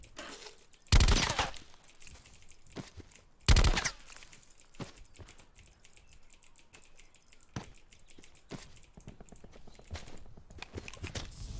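Gunfire in the video game Black Ops 4 Blackout: two loud sharp shots stand out, followed by scattered quieter pops and rapid clicking bursts at a distance.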